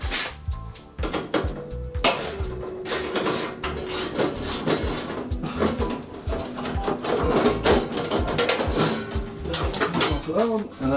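Screws on a Harman P-Series pellet stove panel are loosened with a series of close metallic clicks, taps and brief whining turns, scattered irregularly under a talking voice.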